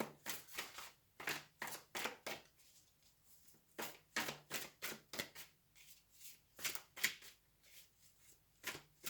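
Tarot clarifier cards are riffled in quick bursts, each flurry a crisp run of rapid flicks with short pauses between, close and fairly quiet, with no voice over them.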